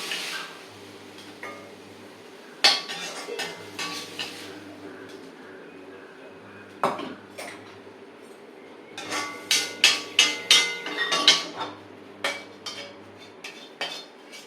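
Stir-fried banana stem poriyal being scraped from a pan into a serving bowl, a series of loud metallic clinks and scrapes of spoon on cookware, sparse at first then clustering into a rapid run of sharp knocks, with a low steady hum beneath.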